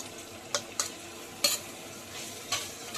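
Cubed paneer being stirred in a pan: a quiet background sizzle runs under four or five distinct scraping strokes of a spatula, spaced irregularly and fairly close.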